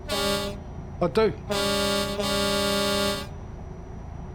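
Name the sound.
train horn on a truck in the video game Euro Truck Simulator 2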